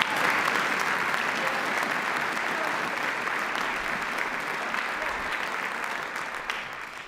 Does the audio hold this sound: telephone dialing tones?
no